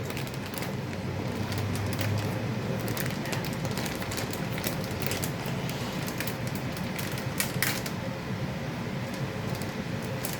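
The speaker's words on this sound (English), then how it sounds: "sorry about the fan. Y'all hear that loud fan?" Steady, loud whooshing drone of a kitchen exhaust fan running continuously, with faint clatter and rustling on top, no voices.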